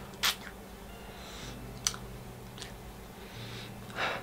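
Body mist from doTERRA sprayed onto an arm: a few short, quiet hissing spurts spaced seconds apart, with no talking.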